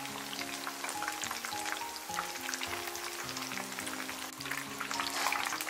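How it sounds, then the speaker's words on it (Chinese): Shiitake mushrooms deep-fry in hot oil until golden and crisp, giving a continuous soft sizzle and bubbling crackle that stays even and fairly quiet throughout. "按同样的方法，给它炸至金黄酥脆"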